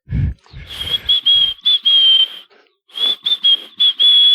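A person whistles close to a microphone in a run of short, bright, loud notes, pausing briefly midway before a few more sustained tones.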